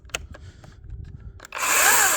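A new cordless battery chainsaw starts up after a few faint clicks and handling noises, its motor rising into a loud, steady high whine that runs alone to the end.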